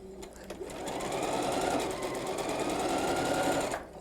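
A sewing machine stitches a 1/4 inch quilt seam, running steadily and close for a few seconds before stopping, its rapid mechanical whir loud and continuous.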